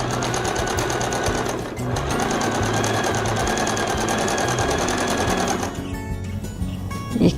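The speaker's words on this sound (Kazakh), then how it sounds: "Лентасын жіңішкертіп тігіп алайық." A sewing machine stitches a narrow ribbon with a fast, even mechanical whirr. It runs close and steady, pauses briefly, then resumes before stopping with a few clicks.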